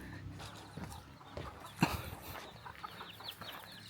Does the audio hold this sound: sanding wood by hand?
no